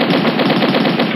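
Rapid automatic gunfire from the Mini Militia mobile game rattles in a fast, continuous burst, loud and close with no pauses and no talking.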